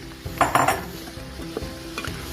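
Vegetables, including parsnips, are stirred into the inner pot of an Instant Pot Ultra 60 with a pork roast, giving a few scraping clinks of a utensil against metal over a faint sizzle.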